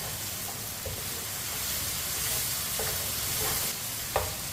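Spices fry in oil for aloo gosht, a constant close hiss of sizzling with occasional soft stirring scrapes and one light clack of the spoon near the end.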